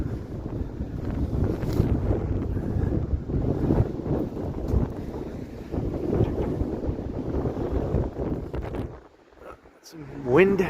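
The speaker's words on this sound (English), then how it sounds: "Some wind, crazy wind here." Strong wind buffets a microphone on a snowy Toronto street at night, roaring and gusting loudly throughout, then briefly dropping away near the end.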